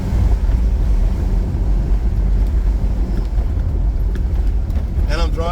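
Vehicle driving along a road on a trip from Cipatuja to Garut, with a steady low engine and road rumble and wind noise buffeting throughout, loud and continuous, with a person talking over it.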